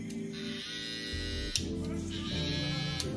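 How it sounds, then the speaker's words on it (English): A Babyliss LoPro Rose Gold FX trimmer runs close by with a steady, high-pitched electric buzz that holds without a break for the whole span. "It has a different tone than the boosted trimmer. Like it's a little bit louder."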